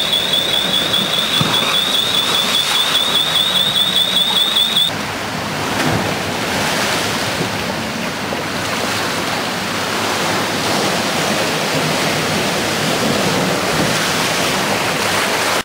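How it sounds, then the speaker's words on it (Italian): Storm-driven sea waves surge and crash against houses and shops at Ischia Ponte, a loud continuous roar of churning surf and spray with no speech, an extra high whine present only in the first few seconds. "la cosa che faceva maggiormente impressione erano le onde che sbattevano violentemente contro le case e gli esercizi commerciali"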